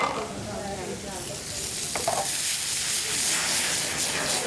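Crab cakes frying in hot oil give a loud, continuous sizzle and crackle close up, with a brief clink partway through and no talking.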